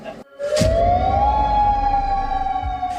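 A warning siren wails in southern Alaska after a magnitude 7.2 earthquake, a loud, close, steady tone that rises and then holds over a rumbling background.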